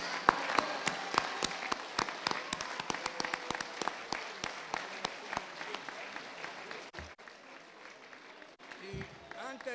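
An audience at a Ladino day celebration applauds loudly, the clapping dense and rhythmic before thinning out and fading near the end.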